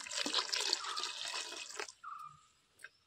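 Extracted coconut milk is poured into a cooking pot for a traditional Konkan manganem, a steady loud liquid splash and gurgle for nearly two seconds that stops abruptly, followed by a faint short tone and a light clink.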